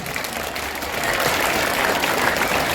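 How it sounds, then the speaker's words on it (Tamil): An audience at a school annual day at a government higher secondary school in Chinthamani, Villupuram, applauds steadily, a dense, continuous wash of clapping that swells slightly partway through and holds loud to the end. "அவர்களுக்கு நாம் அனைவரும் கைத்தட்டி நன்றியை தெரிவித்துக் கொள்வோம்"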